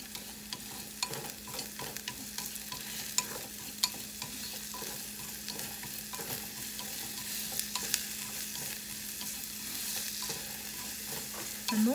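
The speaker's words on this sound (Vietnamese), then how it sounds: "xào cho cái tôm nó thơm" Shrimp stir-frying with sugar in a pan as part of making a Vietnamese mắm kho quẹt with pork: a steady, close sizzle with scraping stirs throughout, and no talking.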